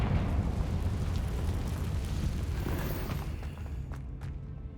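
Confringo spell explosion in Hogwarts Legacy, a loud, rumbling blast with heavy low-end roar that slowly fades, followed by a couple of faint sharp cracks near the end.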